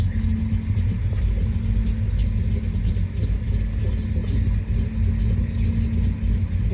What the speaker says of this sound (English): Pretty much a cold start.